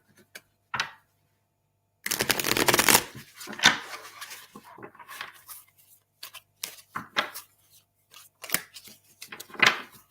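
Tarot cards shuffled in several separate bursts of riffling and flicking, fairly close and crisp, with short quiet gaps between bursts; no talking.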